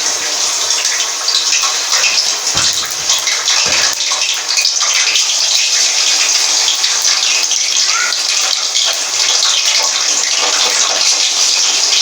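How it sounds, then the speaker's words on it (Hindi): Chicken pieces frying in cooking oil in a wok, a loud, dense, steady sizzle and rush heard close up throughout, with no talk over it. "तो अभी हम इसको फ्राई कर देते हैं कुकिंग ऑयल में।"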